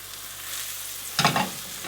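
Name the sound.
mushrooms frying in butter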